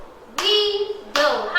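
Hands clap out the syllables of a word in a classroom literacy lesson: two sharp claps, each followed by a voice speaking, close and distinct.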